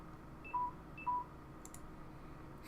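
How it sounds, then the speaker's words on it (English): A phone sounds two short electronic beeps about half a second apart, a low-battery warning, faint over a quiet background hiss, followed by a couple of soft clicks. "That's my phone dying right now."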